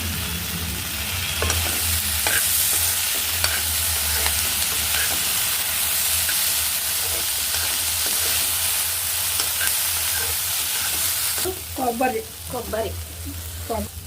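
Toor dal being added to a pan and stir-fried with turmeric, a continuous loud sizzle with scraping stirring strokes, then a pause with brief clattering of the spoon near the end.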